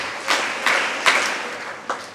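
Schoolgirls at a higher secondary school in Erode clap in a few scattered, separate bursts rather than a sustained round, each sharp smack fading quickly, fairly close and loud.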